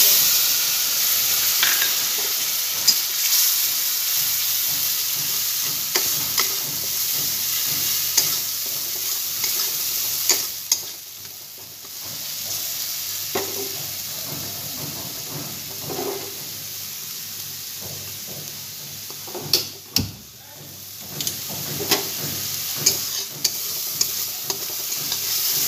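Spice paste with coriander powder fries in oil while being stirred, a constant close sizzle punctuated by scraping and sharp spoon knocks against the pan, no speech.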